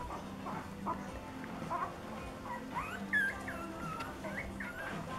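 Puppies give thin, high whimpers and yips over and over, faint and scattered through a quiet room.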